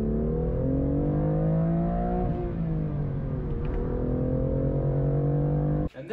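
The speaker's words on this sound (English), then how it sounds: "what I'm talking about is the engine noise, not the exhaust note in the cabin. This sounds very buttery and smooth in the cabin." Engine of a BMW M2 CS heard from inside the cabin, a smooth, steady drone with layered harmonics that dip and rise slightly, close and continuous with no talking.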